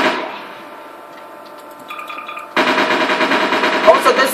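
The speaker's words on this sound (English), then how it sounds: "Also, this is an automatic pistol." A G18AP automatic pistol in Garry's Mod fires a long, rapid, sustained burst that starts abruptly after a few seconds of softer game sounds and stays loud and dense.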